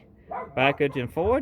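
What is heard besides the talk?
dog barking at a cat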